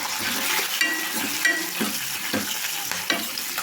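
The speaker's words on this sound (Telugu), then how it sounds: "తాలింపు అయితే బాగా వేగిందండి" Steady hiss of tempering with curry leaves frying in a hot pan, with occasional stirring scrapes and small pops, close and continuous.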